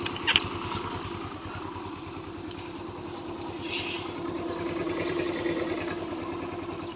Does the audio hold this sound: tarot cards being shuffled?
no